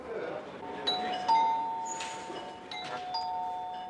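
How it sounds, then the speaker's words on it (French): A harmless-sounding chime signalling an alert order for Mirage IV nuclear bomber readiness, heard as a few clear bell tones with sustained ringing, over a faint background murmur. "Ce carillon au timbre inoffensif, c'est précisément un ordre de mise en alerte."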